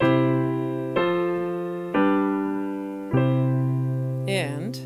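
Piano playing a I-IV-V-I cadence in first inversion, the bass note moved up an octave: four clear sustained chords in steady succession, each decaying, with a brief voice and noise at the very end.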